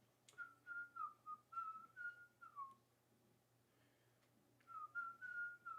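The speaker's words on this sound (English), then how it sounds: "stop whistling it" A person whistles a bouncy tune in a run of short, sliding notes, pauses for a second or two, then starts whistling again over a low steady hum. No one talks.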